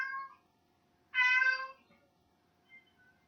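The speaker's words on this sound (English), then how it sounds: "I think the cat just spoke for me." A cat meows once, clear and fairly close, between short faint sounds in an otherwise quiet room, with no talking.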